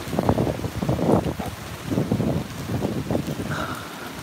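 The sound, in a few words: rain and wind during Typhoon Mangkhut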